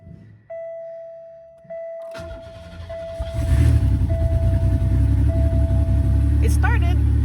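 A 1997 Buick LeSabre, needing new gaskets and left sitting five to six months, cranks and catches, with a door chime pinging beforehand, then settles into a loud, rough, steady idle with a noisy exhaust.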